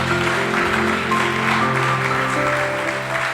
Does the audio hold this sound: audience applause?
yes